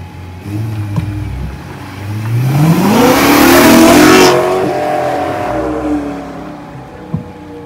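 BMW 1 Series M Cabrio engine revving hard, a loud rising then falling mid-pitched roar that peaks about halfway through before settling to a steady idle-like hum.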